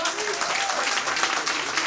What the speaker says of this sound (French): que je me tourne vers Ferdi, dit Ferdinand, qu'on remercie lui aussi, qu'on applaudit très fort